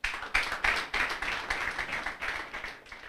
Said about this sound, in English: So again, let's clap for them again.